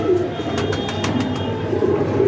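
A pigeon coos close by in soft, low, burbling tones over a steady room hum, with faint brief clicks scattered through.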